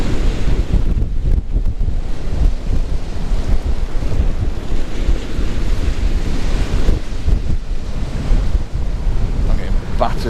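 Surf at Hornsea crashes steadily onto the beach during a sea fishing match, a loud, continuous roar of breaking waves mixed with strong wind buffeting the microphone, with no clear individual wave breaks.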